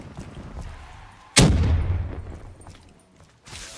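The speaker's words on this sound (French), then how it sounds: "Putain, mais je peux lancer une grenade." A grenade explodes in Call of Duty Black Ops 3 Zombies mode: one sudden loud blast that rumbles and decays over about a second, with muffled gunfire and game noise around it.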